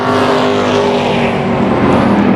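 Pro stock race cars at Tucson Speedway roar past in a dense, loud, continuous engine drone, one pitch rising slightly as the pack charges down the backstretch.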